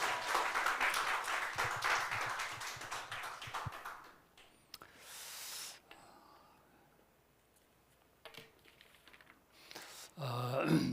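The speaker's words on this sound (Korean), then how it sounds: "우리 목사님 나오실 때 할렐루야로 함께 환영의 박수 올려드리도록 하겠습니다" A congregation claps in welcome as the pastor comes forward at a Sunday church service. The clapping is dense for about four seconds, then thins and fades to quiet before another burst of sound near the end.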